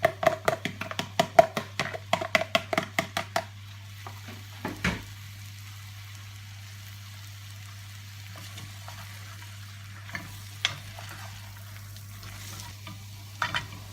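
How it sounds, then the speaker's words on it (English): Browned beef and onions in a stew pot being stirred, with a quick run of sharp scraping clacks at the start, then a quiet low sizzle and a few scattered knocks of the spoon against the pan. "What we're going to do is pop our onions back in, get them back into the mix."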